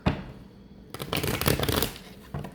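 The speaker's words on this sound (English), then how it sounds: "One more shuffle." Deck of playing cards being shuffled up close, with a short riffle burst, a pause, then a longer crisp fluttering riffle and a final brief flick.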